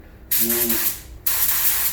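A SATA 1.4 spray gun laying down base coat in a paint shop on Jeju gives two close, loud hissing bursts, each lasting about a second, with a short pause between.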